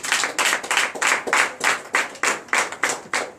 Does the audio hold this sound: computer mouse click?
no